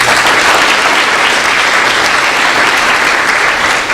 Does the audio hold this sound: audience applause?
yes